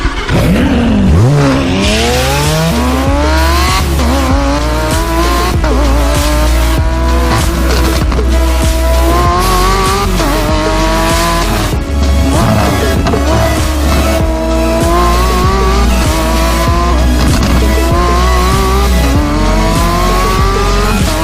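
A Lamborghini Aventador SVJ drives hard with its engine roaring and tires squealing through turns, a loud, sustained run of revving and skidding over a low rumble that continues for the whole stretch.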